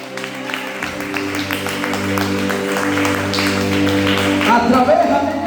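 A church congregation claps loudly and steadily, with sustained applause building over several seconds beneath ongoing voices and music.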